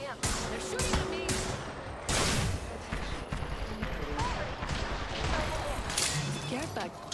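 Gunfire in the video game Apex Legends, with repeated shots and cracks spread across a busy battle mix, fairly loud and mixed with game effects and some talk.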